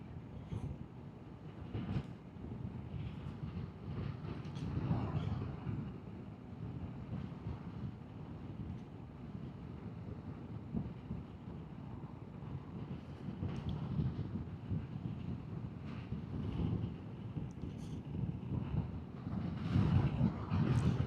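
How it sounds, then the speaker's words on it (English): Steady wind buffets the microphone on a ride out near Barnard Castle, Gainford and Staindrop, with a low rumbling roar that swells and gusts throughout, loud and continuous with no voices. "A bit windy up here."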